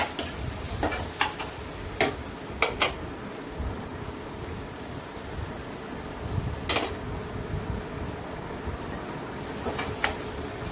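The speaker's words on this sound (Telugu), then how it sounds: "ఇదంతా కలుపుకొని ఇవన్నీ కలిసే వరకు కలుపుతున్నాము." Ingredients for a Telugu-style crab curry sizzle in a pan under a steady hiss, while a spoon stirs and scrapes against the metal in irregular clicks and knocks, close and alone.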